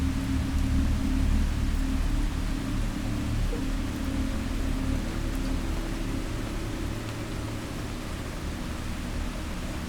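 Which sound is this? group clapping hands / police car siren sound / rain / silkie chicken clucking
rain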